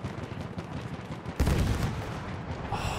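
A grenade goes off in Battlefield 1 with a sudden heavy blast partway through. It is followed by a rumbling tail of debris over a steady background of battle noise.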